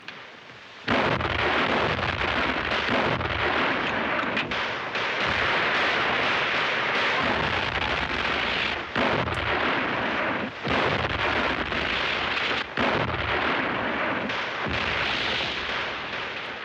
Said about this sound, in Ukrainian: Це не дервішська гармата, це наша.